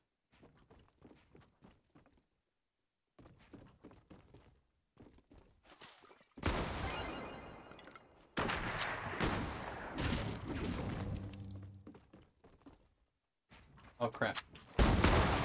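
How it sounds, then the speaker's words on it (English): Gunfire in a Fortnite match on PS4, with bursts of shots and loud impacts clustered in the middle and again at the end, with a player's voice talking between them. "Oh, they're shooting where I am."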